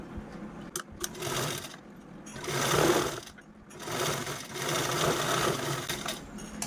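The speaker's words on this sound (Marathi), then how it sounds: "आता यानंतर आपल्याला यावरती दापटीप पण देऊन घ्यायची" A sewing machine topstitches a fabric zipper bag, running in several close, loud bursts of fast rhythmic stitching broken by brief pauses, with no voices over it.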